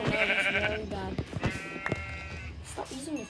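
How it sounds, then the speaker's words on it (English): Minecraft sheep bleat several times in quick succession, close and clear, with a player's voice and game sounds mixed in. "I'm killing sheep, I'm the sheep killer."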